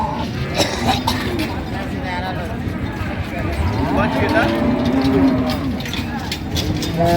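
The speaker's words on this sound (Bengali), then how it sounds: "একটি গাভী বাছুর দেখছেন" A cow moos amid the steady din of Raniganj haat, a busy cattle market in Dinajpur selling dairy cows and calves, with crowd chatter and voices filling the background throughout.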